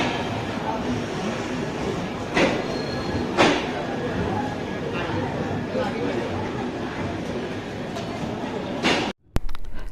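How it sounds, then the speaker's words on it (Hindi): Jaynagar LTT Pawan Express rolling into a station with a steady rumble, a couple of sharp hiss or squeal bursts along the way, and a sudden clunk near the end, amid platform noise. "तो चलिए आप इस ट्रेन का अराइवल देखिए।"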